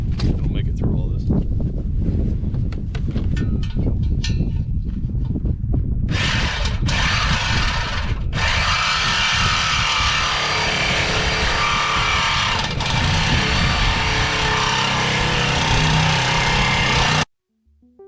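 A Sawzall reciprocating saw cuts through the exhaust pipe on a Cummins-powered truck, a loud, steady, harsh buzzing run that lasts most of the stretch with brief shifts in pitch, then stops abruptly near the end.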